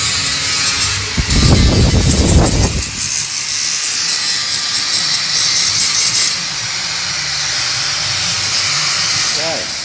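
A loud, steady hissing, grinding cut into a rusted body panel on a VC Brock, with a rougher burst of heavier cutting early on before it settles into a continuous harsh drone.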